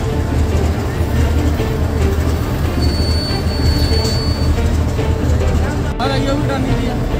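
A train at Sangrur railway station rumbles steadily and loudly throughout, with a faint thin squeal briefly heard and people talking nearby.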